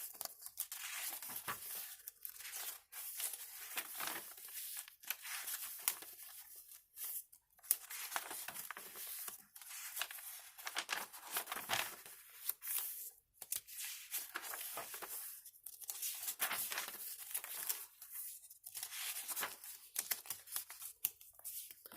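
Vintage wrapping paper and pages of a Thanksgiving junk journal being handled, with repeated close crinkling, rustling and tearing-like crackles in irregular bursts, no talk.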